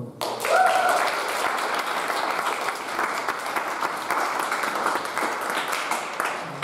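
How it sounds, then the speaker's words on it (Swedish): A church audience gives a performer a round of applause, steady moderate clapping from a crowd that holds for several seconds, with a brief voice at the start. "en applåd för honom"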